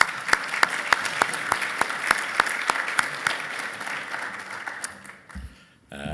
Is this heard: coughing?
no